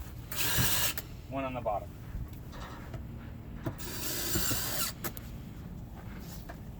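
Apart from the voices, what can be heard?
screws being driven into a vinyl gate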